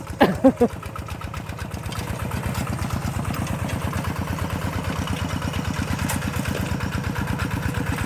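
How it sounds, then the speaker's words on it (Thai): An ET11 walk-behind tractor engine working hard soil chugs in a steady, rapid single-cylinder thump, close and continuous, with a few sharper knocks at the start. "รถไถเดินตามครับ ของไอ้เพื่อน"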